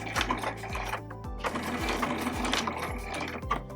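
A sewing machine stitches a fabric heart ornament through batting, its needle thumping in quick repeated bursts with short pauses between runs, close and clear with no talking.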